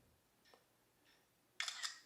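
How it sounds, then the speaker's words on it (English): Camera shutter firing from a selfie stick tripod's remote shutter button, two faint soft clicks followed by one louder, sharper double-snap near the end, otherwise quiet. "Now we'll see by pressing this shutter button if it mutes that sound"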